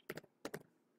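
Computer keyboard typing close up: two quick pairs of crisp keystrokes in a short burst, then quiet.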